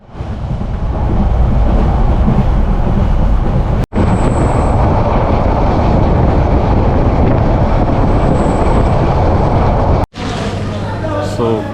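A train running at high speed between Dhaka and Cox's Bazar, heard as a loud, continuous roar of wind and rumbling rails from on board, broken by two brief cuts.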